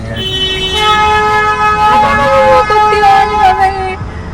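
Car horns blaring in a downtown Toronto traffic jam near a streetcar line, long sustained loud honks overlapping each other close by across the whole stretch.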